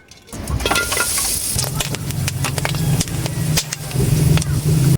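Hot oil sizzling loudly as sun-dried tarukog sea creature fries into chicharon, a close crackling hiss with sharp pops and spatters scattered throughout and a low hum beneath.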